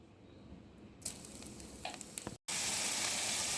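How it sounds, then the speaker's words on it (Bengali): Panch phoron spices hitting hot oil left from frying katla fish: quiet at first, then a sudden loud crackling sizzle with sharp pops, a brief cut, and a bright steady hiss of frying. "যেই তেলে মাছগুলো ভেজে নিয়েছি সেই তেলে এবার 5 ফোড়ন দিয়ে দেবো"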